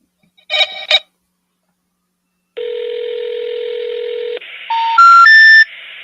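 A phone dials a call: two short keypad beeps, a pause, then a steady tone held for almost two seconds, followed by a quick rising series of three beeping tones, loud and clear, with no talking.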